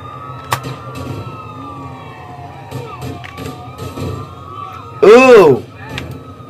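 In GTA IV, an emergency vehicle's wailing siren sweeps up and down beneath a player's excited talk, with one sharp, louder siren burst near the end amid game noise.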